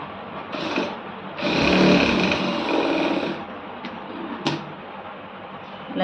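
A sewing machine runs in short bursts while stitching a sleeve, with a longer steady whir of about two seconds followed by quieter pauses and small clicks.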